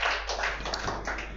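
A church congregation claps loudly together during worship, a dense, steady burst of many hands that fills the room for a moment.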